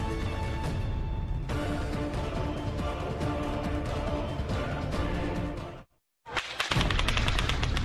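Rapid gunfire from the Las Vegas Strip country music festival shooting, a dense, sustained crackle of shots heard from a distance, breaking off briefly into silence before resuming loudly.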